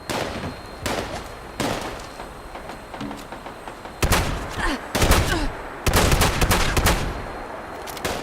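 In Fallout 76, a shotgun fires in rapid succession: a string of loud, sharp blasts at irregular intervals, some close together, each with a short ringing tail over faint background game ambience.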